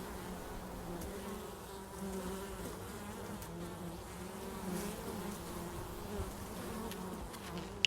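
A dense, continuous hum of many honeybees buzzing at the hive, steady and close, with no voices.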